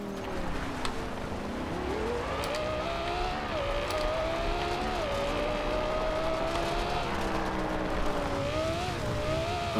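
Audi R8 engine and exhaust from Forza Horizon 2 roars loudly and steadily throughout, pitch rising and falling with gear changes and throttle, a continuous close race-car drone with no speech.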